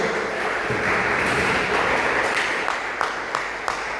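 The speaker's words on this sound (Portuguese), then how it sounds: "As palmas bem alegre, exalta e glorifica o nome do Senhor." A church congregation claps joyfully in praise, a dense continuous wash of many hands with a few sharper individual claps standing out, steady and fairly loud with no talk.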